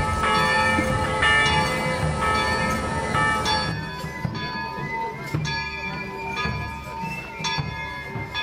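A chapel bell rings repeatedly at a Notre-Dame des Plans pilgrimage, loud, close metallic strokes with long resonant decay, the strikes spaced irregularly and ringing over each other, amid outdoor crowd noise.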